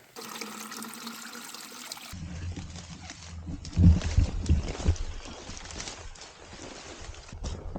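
Water runs and trickles close by, with soft splashing bursts in the middle, over a steady low rumble.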